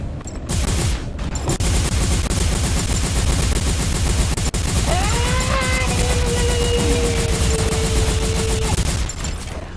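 Rapid gunfire rattles without pause in a video game, dense overlapping automatic bursts close and loud throughout, with a rising whine of a weapon or engine cutting through midway, no talking.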